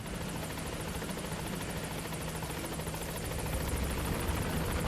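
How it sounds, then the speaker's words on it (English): A helicopter in Metal Gear Solid V drones steadily, its rotor chop and engine whine a constant, even wash that stays level throughout, with no voices. "so you could choose to fly by helicopter if you prefer"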